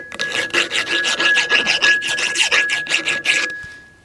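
Rust being brushed off a Farmall 140 cultivator arm makes a quick run of about a dozen rhythmic, close, raspy scrubbing strokes, then stops.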